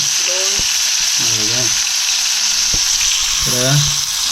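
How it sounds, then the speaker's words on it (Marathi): Fish fries in a pan in a Konkan home kitchen, a loud constant sizzle close by with voices talking intermittently over it. "मच्छी फ्राय करते"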